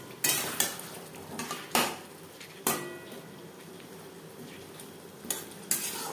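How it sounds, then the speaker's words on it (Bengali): Potatoes and spices are stirred in a pan while cooking a Bengali hilsa fish curry, giving several scraping, clattering strokes of a spoon against metal at an irregular pace over a low background sizzle. "আলু বেশ ভালো করে মিক্সড করে দেবো"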